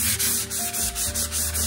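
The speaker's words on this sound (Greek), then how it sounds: "τα οποία θα χρησιμοποιήσω ένα γυαλόχαρτο, θα έρθω να τα τρίψω" Sandpaper rubbing by hand over a smooth metallic copper-effect painted surface, a steady close scratchy rasp in repeated back-and-forth strokes, loud and continuous with no voices.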